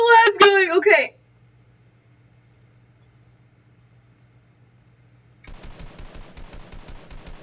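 Rapid burst of Fortnite gunfire, a regular run of sharp shots arriving after a moment of excited talk and a long quiet gap, moderately loud and close.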